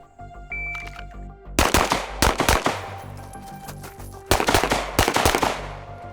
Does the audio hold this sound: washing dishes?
no